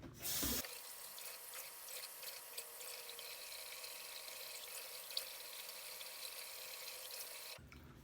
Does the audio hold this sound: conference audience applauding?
no